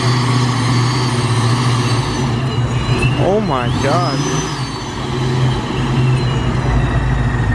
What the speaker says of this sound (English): That thing sounds insane. I think that's louder than my car.